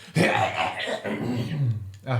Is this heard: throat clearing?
yes